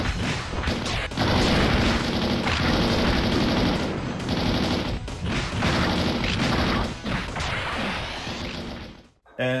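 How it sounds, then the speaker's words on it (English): Sega Saturn shooter game with a mech robot firing machine guns and rockets: dense rapid gunfire bursts, crashing explosions and whooshes run loud and continuous, then cut off abruptly near the end. "You control a mech robot and you have thrusters for limited flight. You have machine guns and some rockets."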